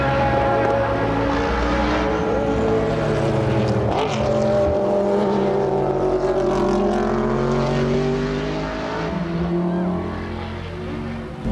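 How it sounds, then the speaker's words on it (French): An Aston Martin AMR1 Group C race car from 1989 at Dijon roars in a steady, loud, deep engine drone with a slight rise and fall in pitch as it holds speed. "une symphonie de moteurs dont l'Aston Martin AMR1 joue les barytons"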